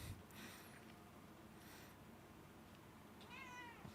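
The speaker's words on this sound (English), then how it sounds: "Why are you still meowing at me?" A cat meows several times, in short rising calls spaced apart, over a low steady background hum.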